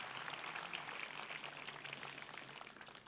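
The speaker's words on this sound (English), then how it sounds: "a round of applause for Chris and Kanani and all the students that put this on for us today" A university audience claps for Chris, Kanani and the students who staged the event, a faint, steady wash of many hands that fades slightly toward the end.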